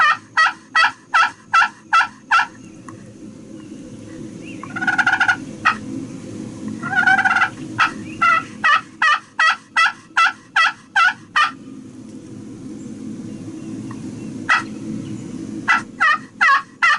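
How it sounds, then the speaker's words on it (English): Wild turkey gobbling in a rainy field, loud and near, with repeated gobbles in bursts between sharp rhythmic calls and a steady background of rain. "Just heard one gobble."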